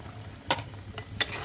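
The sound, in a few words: spices frying in a pan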